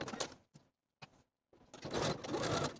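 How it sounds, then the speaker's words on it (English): A sewing machine stitches fabric pocket flaps in place 3/8 inch from the raw edges, running in short close bursts separated by brief pauses, then a longer continuous run at the end. "I'll sew my flaps in place, stitching 3/8 of an inch away from their raw edges"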